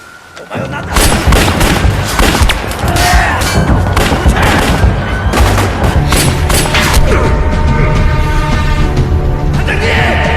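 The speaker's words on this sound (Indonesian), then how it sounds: "Adegan saling tembak pun terjadi." Dense, loud gunfire rips through a film shootout scene, rapid bursts and booming shots overlapping with a heavy dramatic score beneath.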